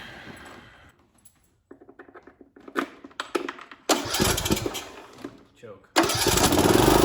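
A Briggs engine on a John Deere D105 riding mower cranks in short stuttering tries, catches, and then roars loudly at close range, with someone speaking around it.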